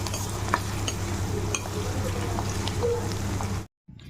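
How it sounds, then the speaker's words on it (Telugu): Onions and green chillies fry in hot oil with a steady, close crackling sizzle and occasional stirring clicks, cutting off abruptly near the end. "మిర్చి లైట్గా వేగాక ముందుగా మనం కట్ చేసి పెట్టుకున్న ఆనియన్స్ కూడా వేసుకుని లైట్ గోల్డెన్ కలర్ వచ్చేంత వరకు ఫ్రై చేయాలి"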